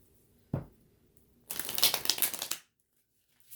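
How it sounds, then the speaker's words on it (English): A soft tap, then about a second of rapid riffling as cards are shuffled close by, ending abruptly in quiet. "I'm going to do 2 more shuffles here."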